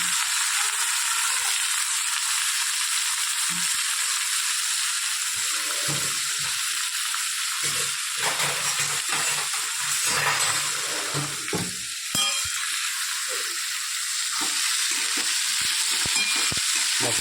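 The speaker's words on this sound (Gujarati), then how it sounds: "હાફ ગેસ જ આપણે એને તેલમાં ફ્રાય કરીશું." Ivy gourd (tindora) frying in oil over a half-flame gas burner, a steady close hiss of sizzling with occasional stirring clatter and scraping, no voices.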